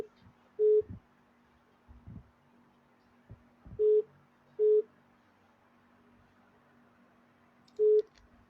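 Repeated busy-signal tones on a telephone line as a call fails to go through: four short, evenly pitched beeps spaced irregularly over near silence, with faint low thumps between them.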